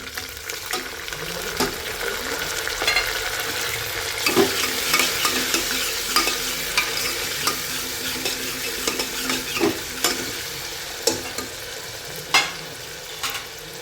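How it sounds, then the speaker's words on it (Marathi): Garlic and tomatoes sizzle steadily in a hot pan on a Maharashtrian stovetop while a spatula stirs and scrapes in repeated close strokes over the continuous frying hiss, with no voices. "दोन मिनिटं परतून घेऊया. इथे लसूण टाकून घ्यायचा आहे, टोमॅटो टाकून घेऊ"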